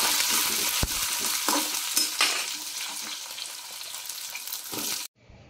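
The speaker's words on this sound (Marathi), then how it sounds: "ही बघा आता मी ही भाजी बनवते, बटाट्याची फोडणी देते।" Potato curry tempering sizzles loudly in a pan while a spoon stirs and scrapes in irregular strokes, close up, ending abruptly in silence.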